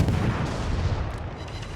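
Rear gun turrets of a warship firing in World of Warships, a dull booming rumble of distant heavy naval artillery that fades over under two seconds.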